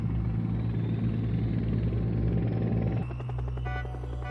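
Steady, throbbing rotor and engine drone of a helicopter, loud and continuous, with the tone shifting partway through as it settles into a smoother hum.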